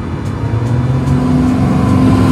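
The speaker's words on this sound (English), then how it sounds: "Look at this race truck." A race truck's engine roars loud and steady at a car cruise event, the rumble holding a constant pitch with a slight rise in the last moments, no talk over it.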